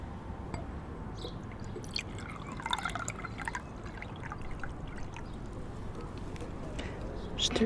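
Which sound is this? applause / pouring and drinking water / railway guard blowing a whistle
pouring and drinking water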